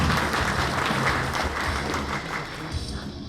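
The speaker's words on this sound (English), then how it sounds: "let's give all of our first group teammates a big round of applause" An audience applauds a martial arts group at a black belt promotion, a dense, steady burst of clapping from a crowd that fades slightly toward the end.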